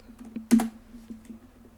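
A computer keyboard clicks in a short burst of typing, close and light, with one louder clustered strike near the start and a few sparse taps after.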